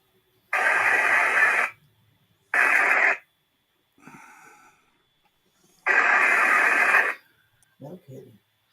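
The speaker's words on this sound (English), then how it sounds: "It's like he's generating his own white noise." Bursts of loud radio white-noise static come in separate blasts of about one to one and a half seconds, with faint, brief, indistinct voice-like sounds in the gaps between them.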